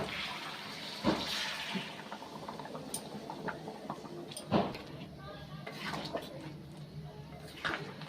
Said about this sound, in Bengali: এবার এর মধ্যে দিয়ে দিচ্ছি গরম জল।